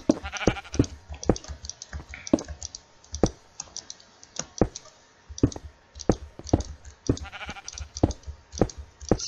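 Blocky sheep in Minecraft let out a few faint bleats mixed among rapid, close keyboard clicks and key taps that patter throughout in irregular bursts.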